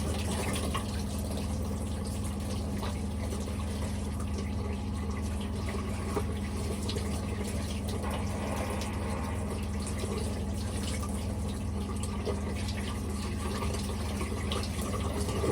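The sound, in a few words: tap water running while rinsing a soap bar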